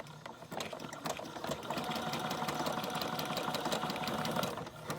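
A sewing machine runs steadily backward, stitching through a handmade junk journal envelope, a continuous close mechanical whirring and rapid clatter with no pauses.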